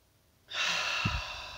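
A single soft breath, starting quietly and swelling into a close, airy exhalation that fades slowly, heard alone in a quiet room.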